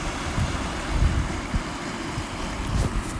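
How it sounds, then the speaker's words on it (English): Ocean waves break on the shore amid heavy wind noise against the microphone, a broad continuous rushing with low thumps as surf surges and crashes nearby. "I'm gonna get another big wave in here."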